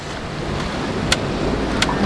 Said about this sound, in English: Another gust.